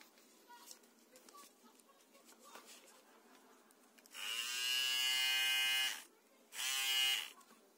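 An electric shaver from China buzzes in two bursts, the first a few seconds long and the second shorter, after a quiet stretch of small handling sounds.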